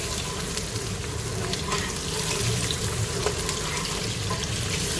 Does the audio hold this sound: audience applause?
no